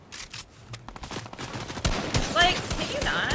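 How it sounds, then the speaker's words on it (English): Gunfire in a Fortnite battle royale match during the Doomsday live event, with a rapid run of shots early and heavier cracks later, under game effects and a player's talk. "Oh, they're getting sniped at, I think."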